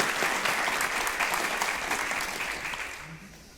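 Steady applause from a church audience welcoming Dr. Christine Moutier, a dense, even clapping that fades gradually over a few seconds.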